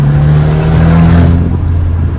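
A VW Golf 5 GTI with a stainless downpipe revs loudly up close, a thick droning exhaust note holding steady then dropping as the revs fall, with no pops clearly standing out.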